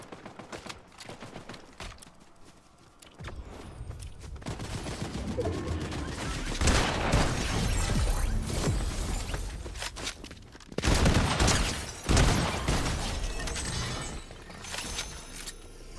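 Video game gunfire in a 1980s setting, with a few sharp shots at first and then sustained loud bursts of rapid fire, heavy impacts and clattering, pausing briefly before resuming.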